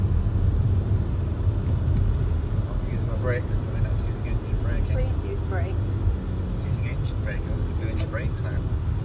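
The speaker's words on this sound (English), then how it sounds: "I'm using engine braking." A vehicle engine-braking down a steep hill gives a low, steady rumble of engine and road noise throughout, with faint higher whines and squeaks scattered through the middle.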